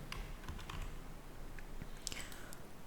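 Quiet typing on a computer keyboard, a run of soft irregular key clicks heard alone at close range.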